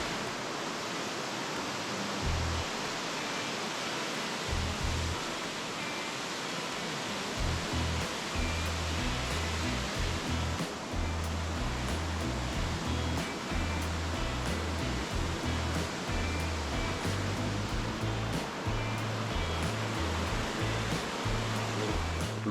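A large waterfall in North Cascades National Park roars as a loud, steady wash of falling water, dense and unbroken throughout, with some low rumbling gusts.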